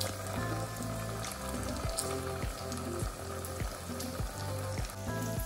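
Meat for spaghetti carbonara fries and sizzles in a pan, a loud continuous hiss close up with low rhythmic bubbling from a pot of salted water boiling nearby.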